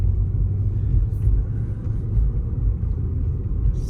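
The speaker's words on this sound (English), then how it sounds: "let's go for a little drive." A third-generation Acura TL driving on the road gives a steady, loud low rumble of engine and tyre noise from inside the cabin, continuous with no talk.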